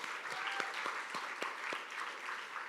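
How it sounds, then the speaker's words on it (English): An audience at a poetry reading applauds a bookseller, Open Books, a Poem Emporium, with a steady, moderate round of clapping, a few sharper claps standing out from the soft, even patter. "Please give them a round of applause."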